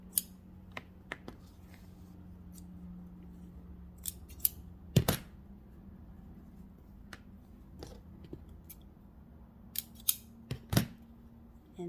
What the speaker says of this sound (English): cut the threads in the middle.